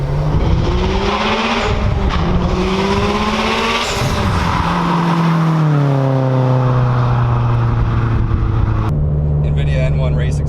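A 2006 Subaru WRX STI engine with a catted N1 race exhaust drones loudly and steadily, its pitch rising and falling as the revs change, while people talk over it throughout.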